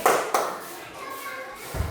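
Schoolchildren in a coding class clap their hands, two sharp, close claps at the start, followed by quieter classroom murmur and children talking.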